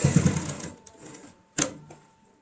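A sewing machine stitches across the top of a fabric tote bag, a short close burst of mechanical running, then a brief pause and a sharp click.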